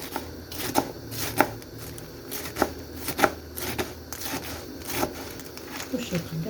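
A knife cuts off yellowed parts of food on a board in a series of sharp, separate chopping taps, irregular and close, with a voice heard in Turkish between them.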